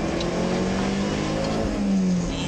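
A rally car engine roars hard under load on a Targa West special stage, and its pitch breaks off and shifts abruptly partway through as a gear change is missed.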